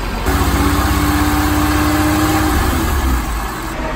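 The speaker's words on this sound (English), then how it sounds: "if you rev the engine up and down, maybe it can get some of those air bubbles to come up" A supercharged V6 in a Toyota MR2 (SW20), fresh from a new OEM radiator install, revs up and down steadily, its tone rising and falling close by with no talk.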